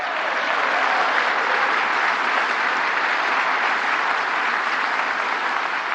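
Thunderous, continuous applause fills the chamber of Congress during Donald Trump's State of the Union address, an even wash of many hands clapping at once that holds steady throughout.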